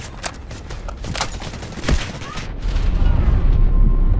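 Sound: gunfire in the video game Delta Force: Hawk Ops

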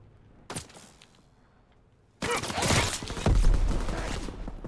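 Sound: gunfire in a video game shootout

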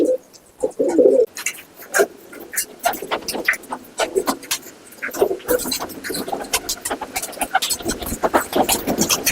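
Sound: pigeons cooing

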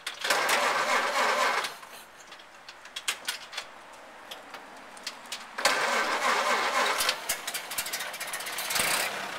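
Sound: 1931 Ford Model A engine starting and running

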